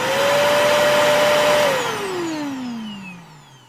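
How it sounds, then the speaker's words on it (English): A household vacuum cleaner running across a living-room floor: a loud, steady motor whine that holds level, then drops in pitch and fades as the machine powers down. "The rhythmic sound of the vacuum was almost soothing"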